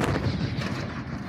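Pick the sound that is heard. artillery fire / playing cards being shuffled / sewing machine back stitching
artillery fire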